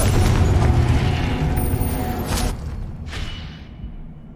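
A Confringo blast spell explodes in the Hogwarts Legacy video game, a loud booming burst with a whooshing tail that fades away over a few seconds.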